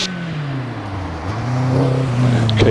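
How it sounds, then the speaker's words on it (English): A Caterham 7 races up the Prescott hillclimb course, its engine note rising and falling through gear changes as it accelerates, heard from a moderate distance with a commentator talking over it. "And Joey Hoyle is also on the hill in the Caterham 7."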